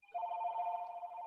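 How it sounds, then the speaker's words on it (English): A telephone rings with a single sustained electronic trill, faint and clean against a quiet room, with no voices over it. "The phone's ringing."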